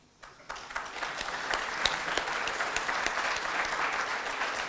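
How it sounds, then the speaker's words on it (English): A conference audience at a business school consulting panel breaks into applause that rises quickly and then holds steady as a full, even patter of many hands clapping together. "A big round of applause, please"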